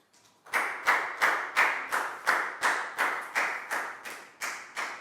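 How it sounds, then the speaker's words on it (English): A classroom of students claps together in a steady, even rhythm, about a dozen sharp claps in quick succession, fairly close and loud with no talking. "High five and a big round of applause for Prel, please, guys."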